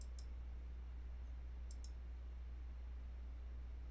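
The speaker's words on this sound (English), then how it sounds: "I'm going to right click on it." Faint, quick pairs of computer mouse clicks, a right-click on a zip file in a quiet room with a steady low hum, one pair near the start and another just before the middle.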